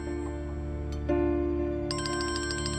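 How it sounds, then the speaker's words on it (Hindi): A phone ringtone plays, a sustained electronic tone that shifts partway through into a bright, repeating chiming melody, fairly close. "इसका फोन बज रहा है"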